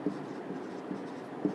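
Faint scratchy strokes of chalk or marker writing on a board during a physics lecture, soft and irregular with a few sharper taps, no talking.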